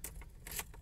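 Car keys for a Toyota Vios XLE 1.3 jangle briefly and close by, a few quick metallic rattles.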